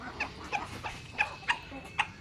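Free-ranging chickens let out of their coop give a handful of short, evenly spaced clucks, fairly faint, with a quiet background and no talking.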